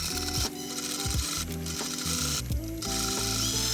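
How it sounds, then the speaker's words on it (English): A sewing machine runs along fabric edges for a camper interior, a rapid mechanical whirring and clicking that stops and restarts in short bursts with brief pauses between runs. "Over at the sewing machine, I run along the edges with about a 6mm seam allowance."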